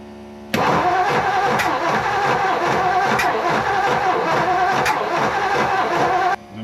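A 1959 Ford Fairlane 500 V8 engine catches and idles steadily, loud and close, with a rough uneven rhythm and occasional louder pulses, then cuts off near the end.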